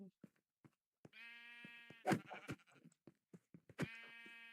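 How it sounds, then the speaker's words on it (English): A Minecraft sheep gives two drawn-out bleats, one near the start and one near the end, with soft game clicks and footstep taps between them. The whole scene is quiet. "There's a wild sheep over there."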